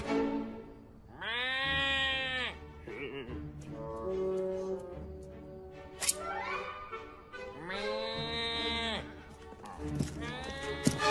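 Cartoon voices bleat like goats, loud and close in several long quavering calls with short gaps, imitating goat and kid cries, with brief talk between them.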